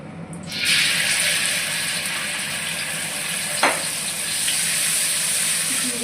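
Spice paste cooking down in a wok for a fish curry, a steady bright hiss of sizzling oil that starts abruptly and continues evenly, with one brief scrape or clink partway through.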